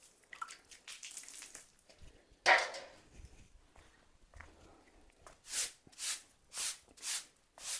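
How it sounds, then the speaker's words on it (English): Water sprinkled by hand onto a worn house floor before sweeping, a series of soft splashing bursts, one louder spatter early and then a regular run of splashes near the end, quiet and close. "sprinkling some water will help with the dust while you're sweeping"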